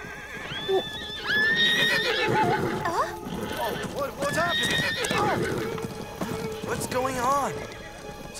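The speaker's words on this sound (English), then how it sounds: "Something scared the horses and they're loose." Loose horses in an animated cartoon gallop with drumming hooves and let out repeated shrill whinnies and neighs, loud and close, continuing throughout.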